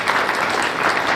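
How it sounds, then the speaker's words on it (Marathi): An audience at a police deputy superintendent's competitive exam guidance talk applauds, a loud, dense wash of clapping that fills the moment without pause. "मी त्यांच्यासाठी सगळ्यांनी टाळ्या वाजवा पहिल्या सर्व"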